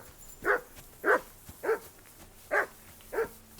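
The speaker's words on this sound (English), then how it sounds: "Do something with that mutt, Henry." A dog barks at a riverbank camp in the video game Kingdom Come Deliverance 2, giving five sharp, evenly spaced barks, fairly close and clear against a quiet background.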